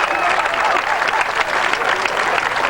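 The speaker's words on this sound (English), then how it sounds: "keep applauding" Sustained audience applause for comedian Buddy Hackett: dense, steady clapping from a crowd that fills the whole moment, with no voices over it.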